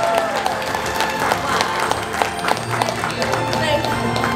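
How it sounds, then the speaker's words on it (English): Audience applause welcoming a voice actress onstage at a Q&A event, a dense steady wash of clapping and crowd noise filling the room, with music and voices mixed underneath. "Please give a round of applause to Erika Harlacher."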